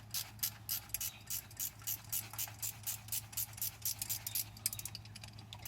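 Half-inch ratchet wrench working a thermostat housing bolt on a 2000 Jeep Wrangler Sahara, faint rhythmic clicking bursts repeating at an even pace, close up, with no voices.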